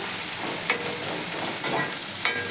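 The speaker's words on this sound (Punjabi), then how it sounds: "ਮਿਰਚਾਂ ਪਾਣ ਤੋਂ ਬਾਅਦ ਵੀ ਆਪਾਂ ਇਹਨਾਂ ਨੂੰ ਚੰਗੀ ਤਰ੍ਹਾਂ ਦੇ ਨਾਲ ਭੁੰਨ ਲਵਾਂਗੇ" Green chillies roasting in a hot pan for a dry bitter gourd and potato dish, steady loud sizzling with occasional stirring scrapes, close and continuous, no voices.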